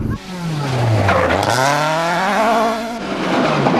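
Rally cars, including a Mark II Escort, race a gravel stage at the 2002 Rally of the Lakes, with loud, close engines revving and shifting through gears as a car passes, the pitch sweeping up and down across the whole stretch.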